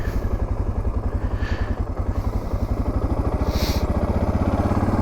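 A Suzuki DR650 motorcycle engine idles close by, a steady, lumpy low thumping pulse running throughout with slight unevenness and no speech.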